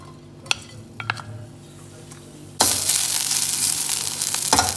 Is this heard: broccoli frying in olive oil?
yes